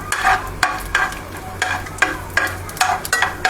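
Soaked samak rice roasting in ghee in a pan, stirred in steady rhythmic scrapes roughly every half second over a soft sizzle.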